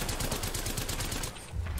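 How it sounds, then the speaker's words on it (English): Havoc rifle in the shooter game Apex Legends firing in sustained automatic bursts. Dense, loud, rapid shots run back to back, then break off briefly just before the end. "I love the recoil on the"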